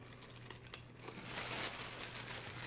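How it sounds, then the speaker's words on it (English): Packaging is unwrapped from a Nightmare Before Christmas Jack Skellington warmer bulb, with soft, faint, close crinkling and rustling that grows slightly louder toward the end. "I'm going to unwrap it so we can see."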